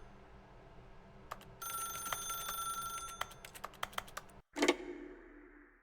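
In The Stanley Parable, a telephone rings with a sustained bell tone broken by sharp clicks and taps, then stops abruptly before a short clatter as the receiver is picked up. The sound is faint and close, with no speech.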